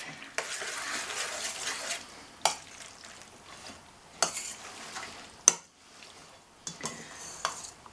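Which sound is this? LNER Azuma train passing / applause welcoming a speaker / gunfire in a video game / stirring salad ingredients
stirring salad ingredients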